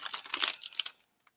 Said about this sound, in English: Sorry for the cellophane noise here.